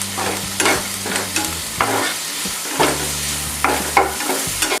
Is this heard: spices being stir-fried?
yes